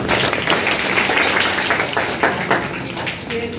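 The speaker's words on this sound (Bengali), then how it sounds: "সবার জন্য আমরা নিজেদের একটা হাততালি দিই" Audience applause at a Brahmangoan Multilateral High School inter-school debate, steady dense clapping from a crowd filling the whole stretch at even loudness, with faint voices mixed in.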